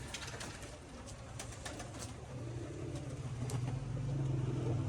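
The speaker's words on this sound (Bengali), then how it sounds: "এরকম কিন্তু 3-4 দিন পরে ছাড়লে পায়রাগুলো কিন্তু এরকম পাগলের মতো ওড়ে আর বাজি করে দেখুন" A flock of pigeons wheeling and tumbling in flight over a rooftop loft in Rajshahi, heard as soft wing flutter and faint cooing against steady outdoor background noise and a distant passing car, slightly louder toward the end.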